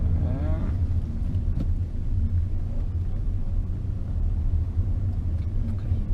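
A car accelerates during a driving lesson, its steady low engine rumble filling the cabin with no pause throughout.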